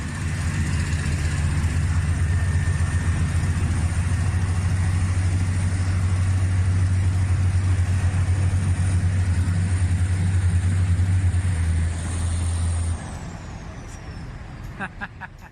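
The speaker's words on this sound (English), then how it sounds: "All of these dump trucks are pulling a hefty piece of frozen iron" Dump trucks haul a heavy block of frozen iron from a failed furnace, a loud, steady diesel drone with deep low rumble that drops in level near the end, followed by faint clicking.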